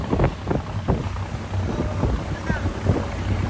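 A boat cruising on open water near Dubai, with steady low engine and hull rumble, wind buffeting the microphone, and a few soft thumps and splashes close by throughout.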